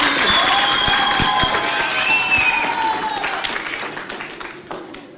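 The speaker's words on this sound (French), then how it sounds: "on applaudit très très fort" Schoolchildren cheering and clapping at a school quiz event, a loud, close burst of mixed voices and hand claps that gradually fades over about five seconds, with shouting and chatter running through it.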